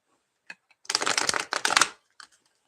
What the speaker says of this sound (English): this card popped out again while I was shuffling